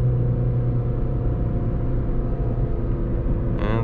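A VW Polo V with a 1.6 TDI 90 HP diesel and 7-speed DSG gearbox hums at a low, steady drone from inside the cabin after a downshift while cornering.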